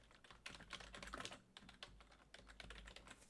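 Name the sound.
typing an email address on a computer keyboard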